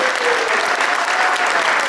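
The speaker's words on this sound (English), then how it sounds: "Big round of applause" Steady, loud applause from a chamber of commerce banquet audience, a dense wash of many hands clapping without pause, with a faint tonal hum running underneath.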